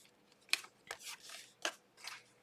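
Scissors snip paper pages for a Thanksgiving recipe journal: several short, crisp cuts in quick succession, close and quiet, with faint rustling between them.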